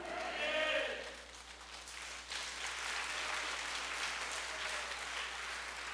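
A church congregation claps together in a sustained, fairly even round of applause, moderately loud and continuous, with a voice briefly audible near the start.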